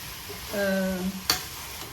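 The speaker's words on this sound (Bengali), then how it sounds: "এই মশলাগুলো কষাতে কষাতেই আলুটা এটার মধ্যে সেদ্ধ হয়ে যাবে" Spices and potatoes sautéed together in a pan, heard as a soft sizzle with a brief scraping stir and a sharp clack of the utensil against the pan.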